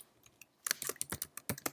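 Keys clatter on a computer keyboard as data is entered into an Excel spreadsheet, a few quiet taps followed by a brisk burst of close, irregular keystrokes.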